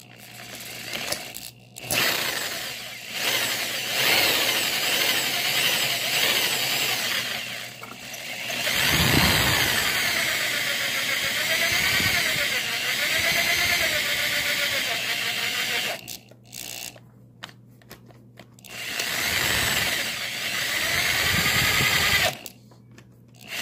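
Power drill boring out a Best SFIC lock core, a loud grinding whir that runs in long bursts, bogging and surging under load, with short pauses between runs and no talk.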